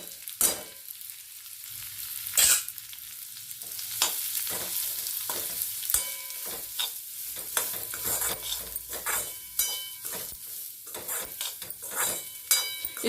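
Grated coconut is stirred and fried in a pan while making Chettinad tomato kuzhambu: a soft, steady sizzle under frequent sharp scrapes and clacks of a spoon against the metal, close and uneven in rhythm.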